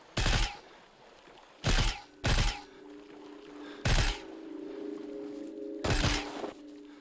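Five loud, sharp gunshots ring out at irregular intervals in the zombie shooter Into The Dead 2, each a short broadband burst over a low steady hum, with no talking.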